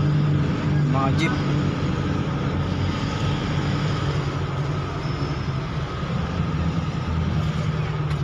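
Jeepneys and other traffic pass on a street by the town plaza in Guagua, Pampanga, a continuous engine rumble and road noise with a brief high squeal early on, under a person talking.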